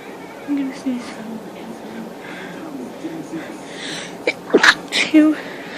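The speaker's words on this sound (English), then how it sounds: "I'm gonna sneeze." A person sneezes near the end after a build-up of halting breaths and small vocal attempts, with a couple of short bursts following; close and loud against quiet room tone.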